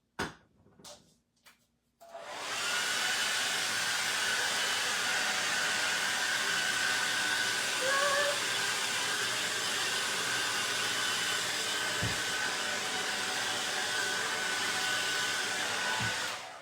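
After a few brief knocks and a pause, a handheld blow dryer switches on and blasts steadily at close range over paint on a Christmas frog box, a constant airy roar that holds to the end.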